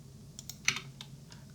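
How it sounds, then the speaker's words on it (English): A handful of light computer keyboard key presses while modelling in Blender, soft irregular clicks with one firmer tap in the middle, close and quiet over a low hum. "I dissolve by pressing X on the keyboard"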